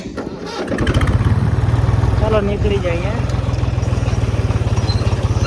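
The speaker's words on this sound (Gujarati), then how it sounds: "ટ્રેક્ટર ચાલુ કરી" A tractor's diesel engine cranks and catches, then settles into a steady, loud chugging idle, with a person talking briefly over it.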